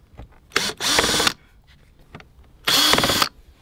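A cordless drill whirs in two short bursts, unscrewing small bolts on a car, close and loud, with brief quiet pauses and faint clicks between them.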